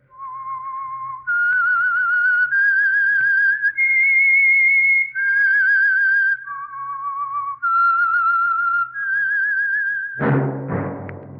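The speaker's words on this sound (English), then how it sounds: "That whistle is your signal for the Signal Oil Program, The Whistler." Whistled theme tune of The Whistler radio mystery program: a lone, clear melody of sustained notes rising and falling, whistled steadily for about ten seconds before a brief orchestral chord.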